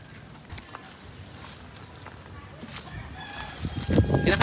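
Chickens cluck and a rooster crows nearby on a farm, with scattered footsteps and faint voices in an outdoor farmyard.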